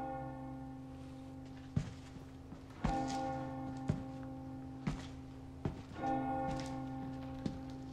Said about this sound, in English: Maybe I should carry a bell like that.